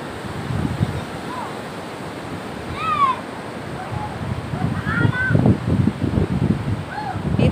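Monsoon surf washes over an eroded beach, a steady close rush and roar of waves mixed with wind, with a few thin bird chirps above it.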